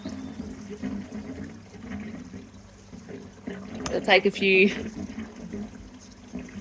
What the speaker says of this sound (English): the water starts coming out in the waterfall over here, just because the filter's refilling